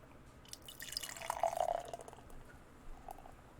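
Beer pours into a glass, a brief gurgling splash of liquid swelling for about a second before settling into faint fizzing and a few quieter drips.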